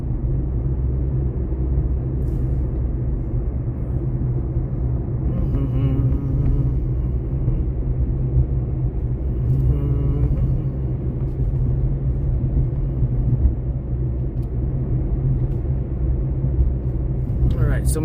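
Steady, loud low engine rumble and road noise inside a moving car in Albuquerque, New Mexico, continuing evenly throughout, with faint occasional knocks and a person talking over it.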